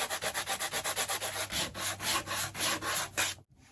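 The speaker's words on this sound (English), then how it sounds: "So I sanded off the sharp stuff" Fine 220 grit sandpaper is rubbed back and forth over a decoupaged surface in quick, even strokes, a close scratchy rasp that stops abruptly at the end.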